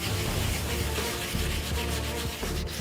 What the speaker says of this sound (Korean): 일반적인 사포질로는 때가 벗겨지지 않을 경우 물로 닦아가며 사포질을 해야 한다